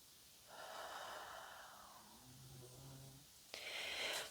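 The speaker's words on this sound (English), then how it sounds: "If you hear a bunch of noise, it's my dog snoring" A sleeping dog snores indoors, giving a couple of soft, drawn-out breathy snorts and wheezes that end in a sharper exhale, all faint and close.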